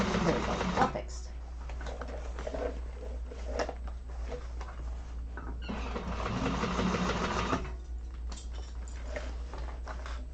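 Sewing machine stitching a Cassia satchel, a steady close mechanical hum and whir running throughout with a brief pause, while a voice talks over it.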